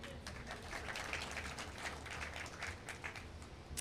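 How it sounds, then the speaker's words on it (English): Faint audience applause at an education awards ceremony in Jamaica, with many hands clapping in a soft, scattered patter for a few seconds. "We can clap for that one."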